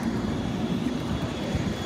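Small airplane heard at an airport observation deck, a steady droning engine roar that holds evenly throughout at moderate distance, with no voices over it.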